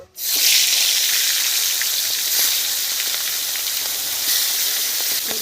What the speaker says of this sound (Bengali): কড়া গরম হয়ে গেছে, তেল দিয়ে দিচ্ছি, মাছগুলো ভেজে নেব।